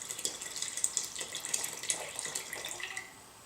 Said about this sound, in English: Now I'm going to add water. This is 460 milliliters